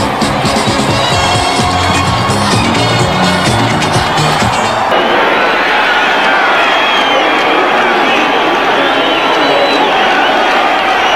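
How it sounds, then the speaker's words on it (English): A football crowd at Texas Stadium during a 1980 Cowboys versus Eagles game roars loudly and continuously, a dense wall of cheering that shifts in tone partway through while a broadcaster speaks over it. "The crowd at Texas Stadium has gone absolutely wild."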